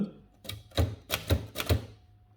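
Keys clacking on a 1918 Remington Junior portable typewriter with glass-covered keys: a few separate sharp mechanical strikes, close and fairly quiet, with no voices.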